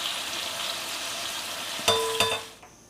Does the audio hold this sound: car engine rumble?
no